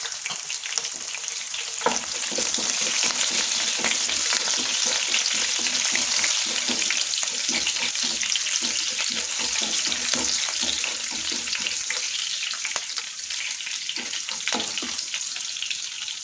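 Green chillies frying in oil in a pan over a medium flame, a loud, steady close sizzle with crackling bursts and occasional stirring scrapes throughout, no voices.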